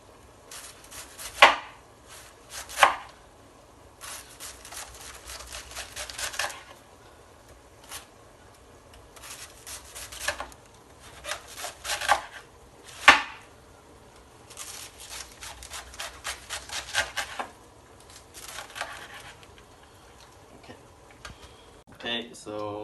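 A knife chops through cabbage in a Zimbabwean home kitchen, making irregular bursts of crisp, close cuts separated by short pauses, with a few sharper board knocks standing out.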